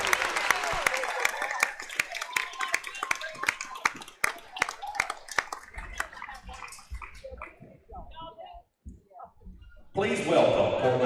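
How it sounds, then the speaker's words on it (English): An audience claps for a high school hall of fame inductee at a ceremony, a burst of dense, close applause that thins into scattered claps and fades, with a voice speaking near the end. "Give another round of applause to Danny Thompson."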